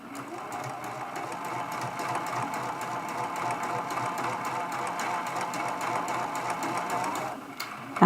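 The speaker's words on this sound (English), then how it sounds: "we're going to sew this first seam" A home sewing machine stitches a quilt block seam for a Christmas ornament, a fast, even whirring hum running continuously up close, stopping abruptly at the end.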